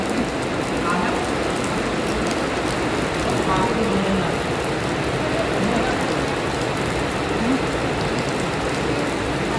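Steady rain falls on a surface during a storm that keeps a little one from getting home, a dense, even hiss lasting throughout with faint voices in the background.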